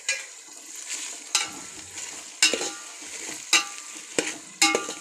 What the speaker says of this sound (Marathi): आणि आपण दाणे आता चांगले परतून घ्यायचे